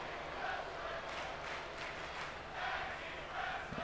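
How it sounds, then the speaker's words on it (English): An arena crowd in Orlando chants during a WWE 2K23 tag team wrestling match, a steady wash of massed voices with rhythmic swells rising and falling under the noise. "this crowd here in Orlando absolutely loving what they're seeing, chanting tag team wrestling"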